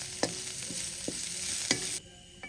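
Onions sizzle steadily in a pan with a few sharp scraping stirs, then the frying noise cuts off near the end.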